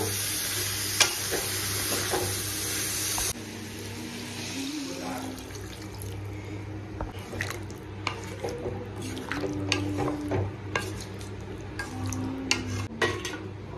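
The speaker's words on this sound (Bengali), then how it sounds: "সেদ্ধ করে রাখা এঁচড়গুলো এবার দিয়ে দিলাম, মিক্স করে দেবো" Boiled jackfruit stirred into a sizzling curry in a pan, with a steady background sizzle, repeated scraping and clinking of a spoon against the pan, and occasional splashy stirring sounds throughout.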